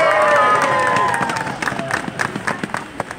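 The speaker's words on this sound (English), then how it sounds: "Give yourself a huge round of applause" An outdoor winter festival crowd cheers and shouts loudly, with high excited voices at first, then scattered clapping and a few claps standing out as the cheering fades.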